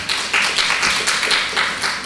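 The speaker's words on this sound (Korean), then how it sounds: "박수 한번 해주시기 바랍니다." A church congregation claps together in a steady, rhythmic burst of applause that fills the room evenly for a couple of seconds.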